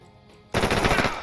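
Gunfire in the tactical shooter video game Door Kickers 2 erupts abruptly as a dense, loud burst of rapid automatic shots after a brief quiet lead-in.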